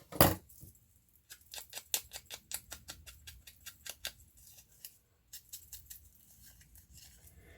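Scissors trim a paper junk journal label, giving a close run of crisp, rhythmic snips that pause briefly and then resume in another quick burst of cuts.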